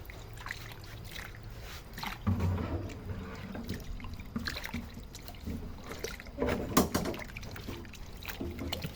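Pickled bamboo shoots being washed in water by hand, with continuous sloshing, trickling and splashing close by, rising at moments as the shoots are stirred.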